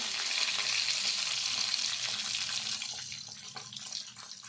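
Eggs frying in a pan of oil for a Telugu egg curry, a loud continuous close sizzle that gradually softens and thins toward the end.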